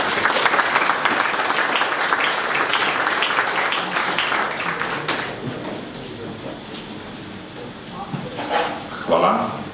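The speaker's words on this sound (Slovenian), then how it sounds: "Velik aplavz za Dragana Mitića, prosim" An audience at a cultural event in a hotel gives a warm round of applause, dense clapping that gradually thins and fades, followed by a voice speaking into a microphone.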